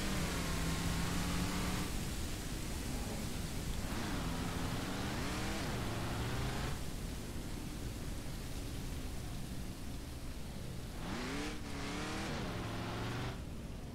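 A vehicle towing a trailer in Ranch Simulator drives along with a steady, loud engine drone, its pitch rising and falling through several revs and gear changes.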